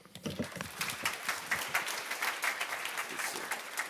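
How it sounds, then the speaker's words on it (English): Audience at a conference on smallholder farming and climate gives a speaker a warm round of applause: dense, continuous clapping from many hands that swells then stays even, with no talking over it. "Give her applause"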